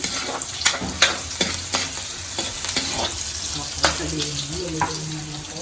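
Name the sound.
onion and garlic sautéing in a pan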